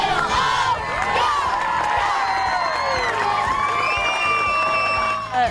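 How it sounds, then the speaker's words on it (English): A crowd at a school home game cheers and shouts wildly, a loud sustained mix of whoops and children's yelling that carries on without pause. "And the crowd went wild."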